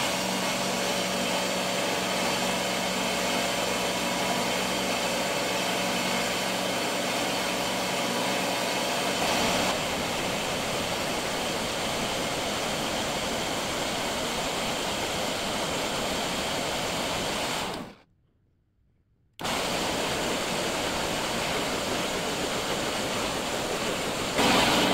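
Power tool cutting down a bolt in a vise makeover, a steady, loud whirring grind that shifts tone partway through, stops briefly near the end, then resumes, with no voices.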